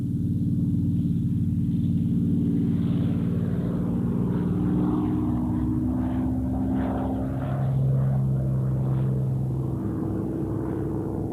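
A Spitfire fighter plane flying overhead: a loud propeller-engine drone that holds steadily throughout, its pitch shifting downward as it passes, heard alone without voices.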